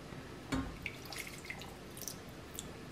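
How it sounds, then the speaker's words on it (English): Water is poured from the edge of a pan into homemade chocolate caramel over a strong flame: one quick splashing burst, then faint scattered drips and soft crackles. "now we start to put in some water from the edge"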